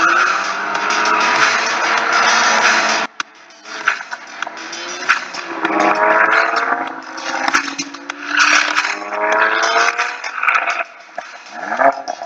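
Cars racing in a futuristic racing video game, engines whining and rising in pitch with squealing tires and skids, several passes overlapping at close range.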